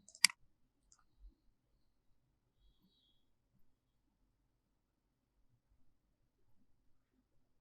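A single sharp mouse click at the very start while posting in accounting software, close and crisp, followed by near silence with only a few faint soft taps and bumps.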